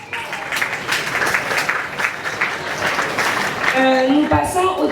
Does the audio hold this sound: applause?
yes